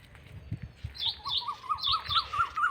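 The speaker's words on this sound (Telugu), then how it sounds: "పక్షుల శబ్దాలు?" Birds chirp and tweet in a village, repeated bright rising calls in a quick rhythmic series at moderate distance, with a few soft thuds underneath and no talking.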